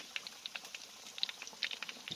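Banana pieces deep-fry in plenty of hot oil, a steady sizzle with crisp little pops and crackles scattered through a soft, continuous frying hiss, close by.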